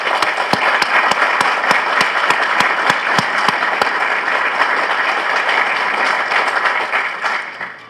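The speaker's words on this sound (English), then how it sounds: "They deserve a round of applause as well." Loud, sustained audience applause at the opening ceremony of the new United States embassy in Kosovo, dense clapping with a few sharp individual claps standing out, fading slightly at the end.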